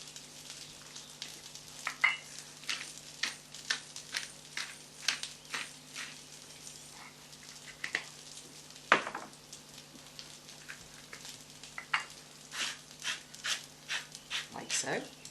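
Prawns sizzle and crackle in a hot pan while being stirred and tossed with salt and pepper, with irregular bursts of spattering and scraping over a steady low hum, at moderate volume.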